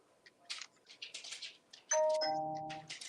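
Faint, scattered talk gives way to a doorbell's two-tone chime, which rings out clearly and lingers as it fades, with soft talk resuming after it.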